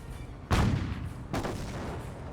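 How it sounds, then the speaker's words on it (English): Cannon fire in the Company of Heroes real-time strategy game, two heavy booming shots about a second apart, each with a sharp onset and a rumbling tail over a busy battle background. "That's at least a cannon and not small arms"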